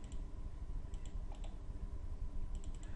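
Keyboard keys and mouse buttons click at a steady, quick pace close by while someone works in Solid Edge ST6 CAD software, over a constant low hum.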